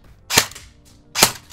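An airsoft pistol fires glass BBs through a chronograph, two sharp loud cracking shots about a second apart, each with a short ringing tail.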